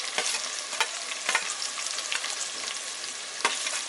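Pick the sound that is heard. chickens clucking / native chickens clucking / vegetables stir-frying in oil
vegetables stir-frying in oil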